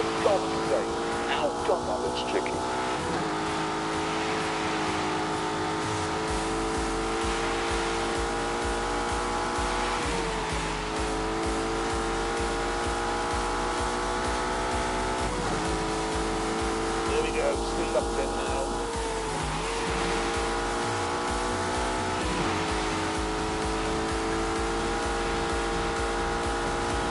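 A turbocharged Lamborghini engine in a PS4 racing game drones steadily and loudly, its revs shifting through gear changes across the run, with a voice talking over it.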